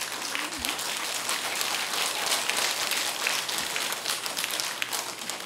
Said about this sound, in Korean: 뭘 자기가 대답하고 자기가 박수 쳐.